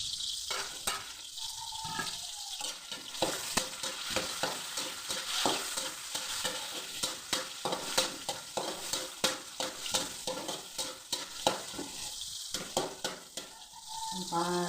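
Tomatoes stir-frying in a pan for an ampalaya (bitter melon) dish, with steady sizzling and a run of spatula scrapes and stirring knocks throughout, close and clear with no talking.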